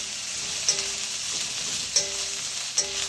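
Onion frying in oil with browned garlic and garlic leaves, a steady soft sizzle with three brief clinks of a utensil spaced through it, close and fairly quiet with no talk.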